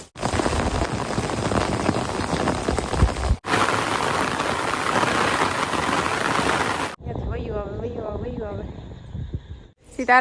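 Steady heavy rain pours in a dense hiss, cut off abruptly twice; a voice speaks in between the rain sections.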